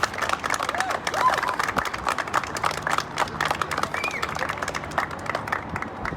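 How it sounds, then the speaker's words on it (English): Crowd applause and clapping at a George Floyd anniversary rally, steady and moderately loud across the whole stretch, with cheering voices mixed in. "Can we give that a round of applause,"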